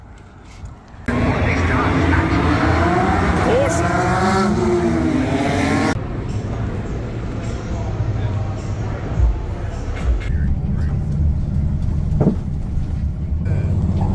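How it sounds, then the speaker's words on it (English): Race cars at the Bathurst 1000 motor race roar past loudly in a sustained burst of engine noise, followed by quieter distant engine drone with crowd background; people talk briefly. "It's time to see some race cars."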